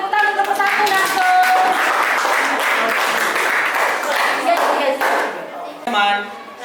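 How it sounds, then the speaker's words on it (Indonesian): A class of students claps and cheers for a presenting group in an Indonesian classroom, a dense burst of clapping with scattered voices and shouts over it, sustained for several seconds and swelling again near the end. "Tepuk tangan untuk kelompok 1 langsung."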